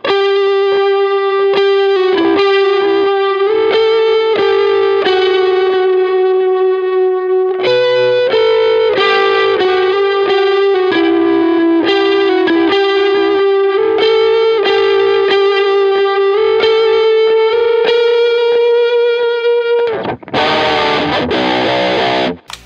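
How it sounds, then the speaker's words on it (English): An electric guitar on its neck pickup plays a riff. The tone is loud and distorted with effects, the notes sustained and bending. It ends in a sudden noisy burst. "I use the neck pickup to add some extra kind of warmth and roundness to it, and it will sound like this."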